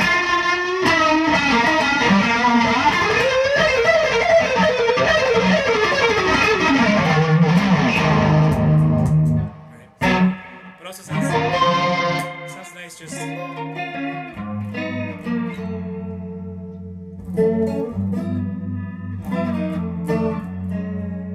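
An electric guitar with a shimmering chorus pedal run through a distortion pedal plays sustained, wavering chords, then sparser notes ring out with reverb.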